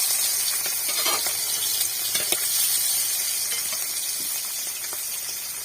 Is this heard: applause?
no